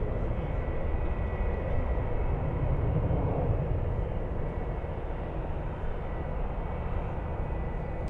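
A Virgin Atlantic airliner rolling for takeoff at SFO, a deep, steady jet roar heard from a distance that swells slightly and then holds.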